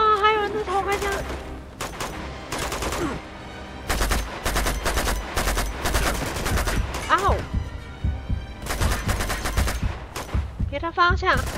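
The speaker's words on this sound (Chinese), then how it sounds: "哇，还有人在偷开枪！" Gunfire in the video game Uncharted 2 on crushing difficulty, repeated bursts of rapid shots and single cracks coming in loud clusters, mixed with game voices and a player talking.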